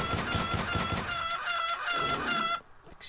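Chickens cluck busily and a rooster crows amid the flock in the PC video game Devil's Share, a dense, continuous barnyard chorus that cuts off abruptly near the end.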